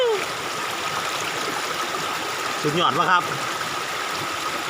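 Water flows in a stream beside a rice field hut in light rain, a steady close rush and gurgle that runs throughout while a man briefly exclaims partway through.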